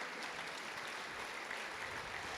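A church congregation applauds together, a steady dense clatter of many hands filling the room, even and sustained throughout with no pauses.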